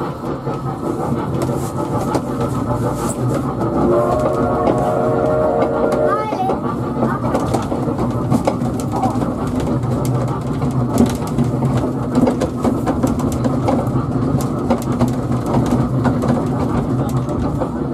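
A small train on Blackpool's North Pier rumbles and clatters steadily along, with voices talking over the ride and a brief whistle-like tone partway through.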